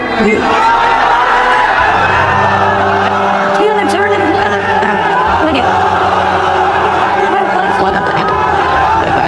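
An audience at an Islamic sermon gathering shouts the takbir together, a loud, sustained roar of many voices filling the hall.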